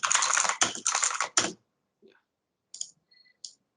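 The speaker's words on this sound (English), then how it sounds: "So I'll just type something more." Typing on a computer keyboard during a video editing session: a few scattered key taps after a burst of broadband noise, sparse and close, with quiet gaps between strokes.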